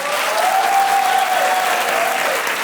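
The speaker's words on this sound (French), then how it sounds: "vous applaudissez en criant" A live audience at a stand-up comedy show claps continuously, a dense steady wash of applause with a faint voice or whistle rising through it.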